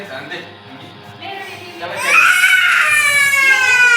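A young child cries at close range, starting with soft whimpers and fussing, then breaking into loud, sustained wailing for the second half.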